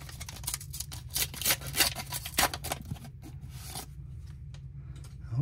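A sports trading card pack is torn open by hand, giving a run of close, crinkly foil rips and rustles in short bursts that thin out into quieter handling near the end, with no talking.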